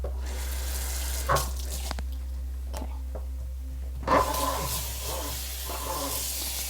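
A tap runs into a sink as the washing water is changed while cleaning a horse grooming kit, with soft splashing and a couple of louder gushes when the flow shifts, quiet and close.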